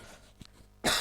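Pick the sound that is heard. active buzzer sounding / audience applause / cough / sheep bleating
cough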